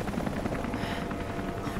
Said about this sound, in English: Uh oh, I hear the helicopter.